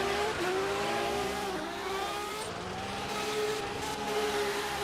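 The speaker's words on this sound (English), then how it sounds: "Love the limiter sound of that Supra." A Toyota Supra race car engine screams at high revs on the rev limiter, holding a strained, buzzing pitch that stutters and wavers as it bounces against the limit.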